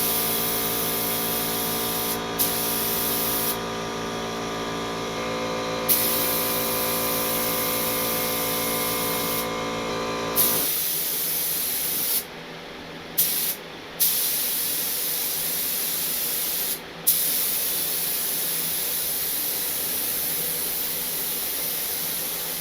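A cheap Harbor Freight HVLP spray gun lays a heavy coat of Rustoleum paint with a loud, continuous hiss. A humming motor runs under it at first, then the hiss carries on alone, broken by several short trigger pauses.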